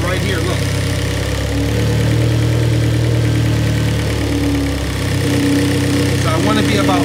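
A K-series engine in a Honda Civic idles steadily up close, a continuous low mechanical hum with slight vibration while the idle is adjusted, with some speech-like sound mixed in.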